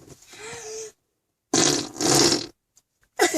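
A child imitates an engine with arm farts, making two or three wet, sputtering, flatulent blasts separated by short silences, close and fairly loud.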